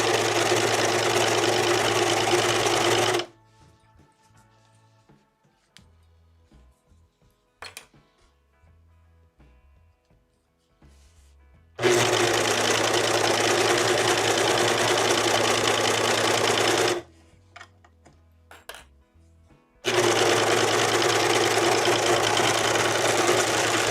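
Serger overlock sewing machine stitching a hooded shirt, running in loud steady whirring bursts of several seconds each, stopping and starting three times with quiet pauses and faint handling between.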